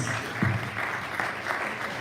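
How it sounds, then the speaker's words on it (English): Applause from an audience at a university workshop opening, honoring the registrar; steady clapping fills the whole stretch at moderate loudness, with a brief low voice or thump near the start. "Shall we please give my guy a round of applause?"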